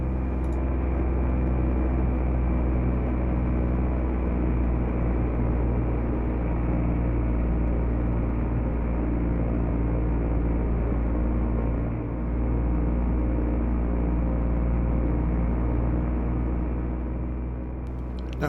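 Ultralight aircraft motor in flight, a loud steady droning rumble heard from onboard as power is added, holding continuously with a brief dip near the end.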